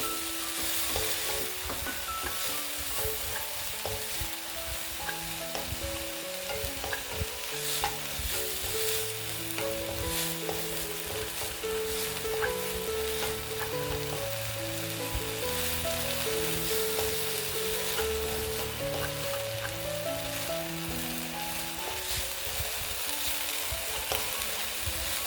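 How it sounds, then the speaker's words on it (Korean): Beef stir-frying over medium heat with onion, a spoonful of radish juice and a pinch of pepper, giving a steady, close sizzle with repeated scraping and stirring throughout, no voices. "양파하고 무즙을 한 스푼 넣고 중불에서 이렇게 볶아줍니다"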